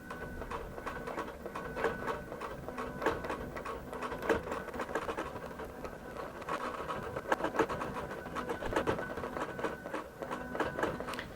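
A QBOT quilting robot sewing machine stitches out an appliqué, giving a steady mechanical hum with a rapid needle rhythm and recurring tonal whine that run continuously at moderate level, no voices present.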